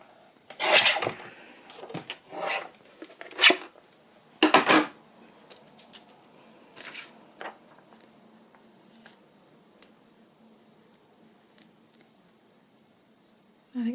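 Paper being trimmed for a handmade wedding journal, a series of short rasping cuts and scrapes, close and fairly loud, coming in irregular bursts that thin out to faint ticks and quiet toward the end.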